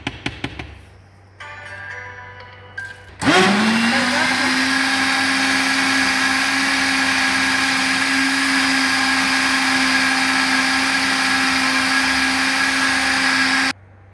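After a few soft knocks and clatter, an electric blender starts up and runs loudly and steadily for about ten seconds while mixing ingredients for an Ethiopian dish, then stops abruptly.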